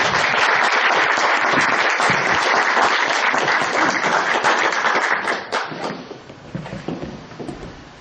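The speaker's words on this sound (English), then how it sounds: "give him a round of applause" Audience applause for Senate candidate Dave Domina at a Nebraska town hall meeting, a dense sustained burst of many hands clapping that tapers off over the last couple of seconds.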